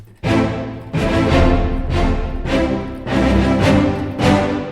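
ProjectSAM Orchestral Essentials sample library: full orchestral ensemble playing loud, punchy rhythmic hits in repeated bursts, with rich low strings and brass swelling between accents.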